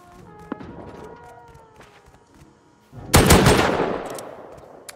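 Rapid automatic gunfire bursts out loudly from the Rust video game after a quieter stretch of faint game sounds, then trails off in a long reverberant decay.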